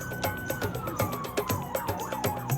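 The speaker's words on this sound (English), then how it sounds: "Police cars speed through the city." A police car siren whoops and wails in rapid cycles over rumbling city traffic, fairly loud and continuous, without any voices.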